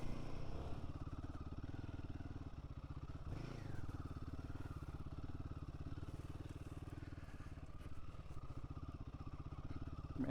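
A Royal Enfield Himalayan 450 motorcycle rides off-road on a dirt motocross-style track, its single-cylinder engine holding a steady, throbbing drone with brief dips and clatter as it bounces over terrain.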